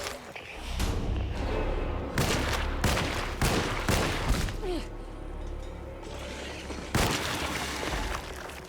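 Bursts of gunfire from the survival horror video game Alone in the Dark, with several loud, sharp shots and thuds scattered over a few seconds against a dark, rumbling game soundtrack.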